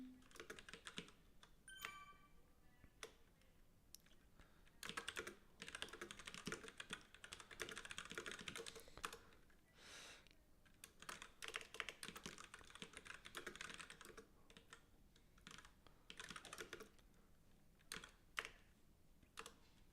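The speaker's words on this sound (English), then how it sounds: "I'm typing in the wrong window here." Quick bursts of keystrokes on a computer keyboard, faint and fairly close, come in irregular clusters with short pauses, continuing for the whole stretch with no talking.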